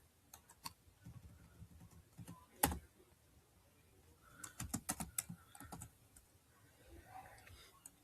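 Rapid typing on a computer keyboard while setting up Laravel code: irregular bursts of crisp key clicks, close and fairly quiet, with a short pause mid-way and a louder stretch of quick keystrokes toward the end.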